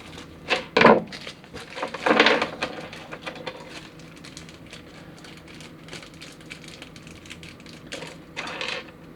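Gundam model kit pieces cut from their plastic runners, a series of sharp close snips and clicks with a couple of louder crunching cuts among lighter tapping handling sounds, no talk.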